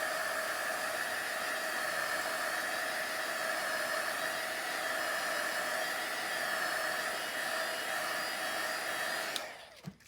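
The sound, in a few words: heat gun blowing hot air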